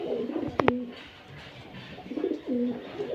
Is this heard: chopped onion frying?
no